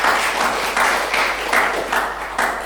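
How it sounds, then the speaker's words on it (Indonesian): A church congregation during worship claps in unison, the applause pulsing in a steady rhythmic beat of loud, close, massed hand claps. "Berikan tepuk tangan yang paling meriah bagi Tuhan."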